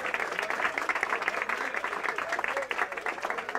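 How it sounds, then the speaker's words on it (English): Applause from a jazz jam session audience for a bassist, a moderate ripple of clapping in a live room at medium distance. "your applause was certainly been for Bill Seitz"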